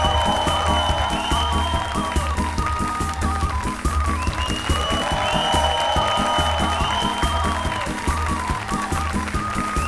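A TV show studio audience applauding guests, dense sustained clapping from a sizable crowd with music playing underneath and a voice briefly heard.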